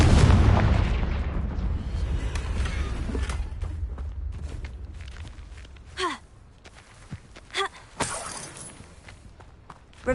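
Confringo blasting curse exploding in Hogwarts Legacy on PS4: a loud burst opens, then a rumbling decay fades under ambient game sound, with a few smaller magical whooshes and impacts later on.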